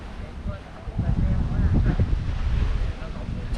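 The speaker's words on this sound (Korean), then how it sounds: "와 파도 소리." Ocean waves wash against the rocky Igidae coast in Busan, a steady broadband rush with gusty wind buffeting the microphone and surging swells building through the middle.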